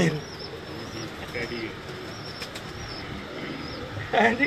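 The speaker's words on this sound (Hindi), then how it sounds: "कामरान कौन सा कबूतर लेके आए हैं" Pigeons coo on a Karachi rooftop where pigeon fanciers keep their birds, with soft repeated coos, a brief flutter of wings near the end, and people talking faintly in the background.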